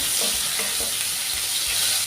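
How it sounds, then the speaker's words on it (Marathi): Ginger and garlic sizzle steadily in hot oil, with soft scraping as they are stirred around the pan. "आलं लसूण आहे हे परतून घ्यायचं आहे थोडासा कलर चेंज होईपर्यंत"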